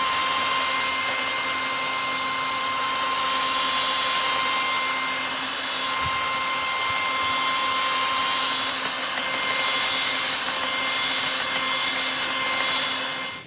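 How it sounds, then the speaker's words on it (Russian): A Heimerdinger cordless drill fitted with a homemade paddle stirrer churns thick paint in a new can at low speed, giving a steady, loud motor whine that holds evenly throughout with no talking. "Берем шуруповерт Heimerdinger, и вот такую вот мешалку я сделал. Мешаем на низкой скорости."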